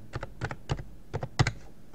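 Someone types a book's ISBN on a computer keyboard in short, quick clusters of close keystrokes separated by brief pauses, ending with a firmer key press.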